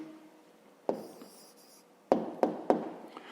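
A pen scratches out a handwritten answer to a fifth-grade maths exercise. Isolated strokes and several quick taps and scrapes sound close and quiet against a hushed room, with no talking.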